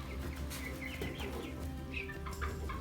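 Chickens cluck and chirp in a homestead coop, many birds overlapping close by over a steady low background hum.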